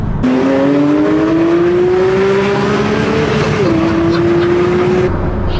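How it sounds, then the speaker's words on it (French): A car engine revs hard in a long, rising howl, loud and close, climbing steadily before a brief dip and then holding high. No talk is heard over it. "J'adore la sonorité de cette voiture."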